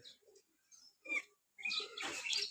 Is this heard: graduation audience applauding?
no